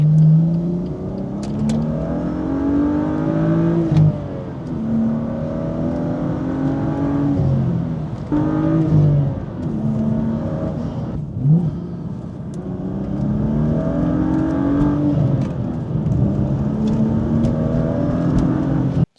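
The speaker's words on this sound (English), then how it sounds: "This car came optioned with the M Performance exhaust, so I can open and close the valves here" A BMW M2 with a single-turbo inline-six and M Performance valved exhaust revs loudly and continuously, engine pitch rising and falling in repeated sweeps with brief dips between pulls.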